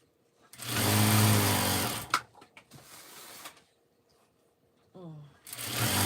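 A sewing machine runs steadily at close range for about a second and a half, then stops; a few short clicks and a brief burst of talk follow before the machine starts up again at the end.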